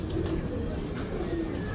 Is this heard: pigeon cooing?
yes